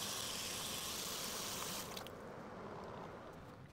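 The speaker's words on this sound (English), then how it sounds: "so we're done rinsing this off with water" Tap water runs steadily while rinsing a film developing tank during home color film processing with a Lab-Box and CineStill Cs41 kit, the broad gushing flow easing slightly partway through.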